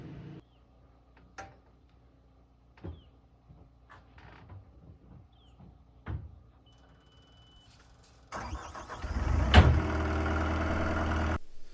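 A borrowed skid steer loader at a home-building site during roof work sits quiet at first amid a few sparse knocks and clatters, then its engine bursts into a loud, steady idling rumble for the final few seconds.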